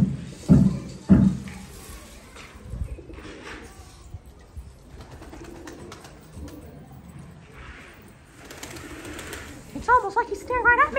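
Birds at a zoo give a few soft coos early on, then chirp briefly near the end, heard alongside people talking and background noise.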